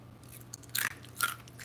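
Two sharp, close crunches of teeth biting into crisp air-dried purple shallot slices, a brief pause separating the bites against a quiet background.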